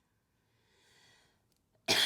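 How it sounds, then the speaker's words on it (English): A single sharp, loud cough bursts out near the end, following a faint murmur and near silence. "here's that cough again"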